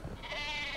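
A brief sheep bleat from Worms: Reloaded, a nasal, wavering cry that rises in pitch and holds for under a second, close and clear.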